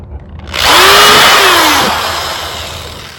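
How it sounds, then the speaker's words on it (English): A power drill whirs up sharply, holding a steady high whine for a couple of seconds before slowing as it winds down. "All right, so drilling right in here"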